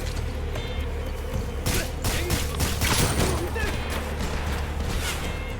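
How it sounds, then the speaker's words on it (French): Rapid bursts of gunfire ring out during a boss fight in the video game Metal Gear Solid Snake Eater, dense and loud over a continuous game soundtrack, with a player's voice intermittently heard beneath. "Pourquoi il me tire dessus?"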